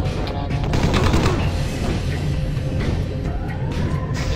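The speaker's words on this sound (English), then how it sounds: "He's shooting me like an asshole." Enemy gunfire in the video game Dead Head Fred, a dense clatter of repeated shots over a rumbling game background, fairly loud and continuous.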